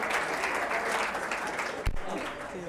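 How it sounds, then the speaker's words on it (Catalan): A studio audience on a school spelling-contest television show applauds steadily and moderately loud for a team's score, with a brief thump near the end. "95, un aplaudiment també."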